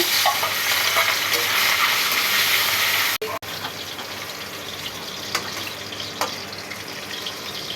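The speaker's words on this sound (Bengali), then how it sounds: "তেল ঢেলে দিলাম বন্ধুরা, কড়া গরম হয়ে গেছে, ভেজে নিচ্ছি" Turmeric-and-salt-coated shrimp fry in very hot oil in a wok-style pan, a loud, dense crackling sizzle that briefly cuts out for a moment, then resumes at a gentler, steadier level with scattered spatters.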